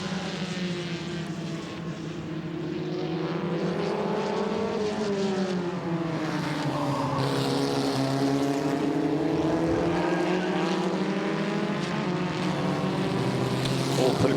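Historic Formula Ford race cars at Winton Festival of Speed run with a steady, loud engine drone that rises and falls in pitch as the cars hold station, continuous throughout with no talk.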